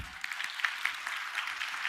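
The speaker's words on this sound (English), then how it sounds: "I should have written in here, applause break number 3." An awards-ceremony audience at the Nordic Game Awards 2018 claps steadily, a fairly soft, continuous patter of many hands with scattered sharper claps standing out.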